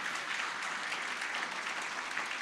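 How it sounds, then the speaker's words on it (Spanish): A church congregation gives loud applause for the King during a service, a fairly faint, steady wash of clapping that stays even from start to finish with no talk on top. "Alguien dele un aplauso fuerte al Rey."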